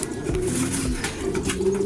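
Grizzle racing pigeons coo steadily inside a loft, several birds overlapping in soft, low, rolling calls that continue throughout at close range.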